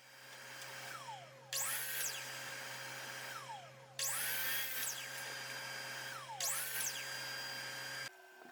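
Up close, a miter saw cuts wood pieces to about 1.5 inches for a Queen Anne coffee table. Three separate bursts each rise to a loud whining spin, then wind down, with steady shop hum in between.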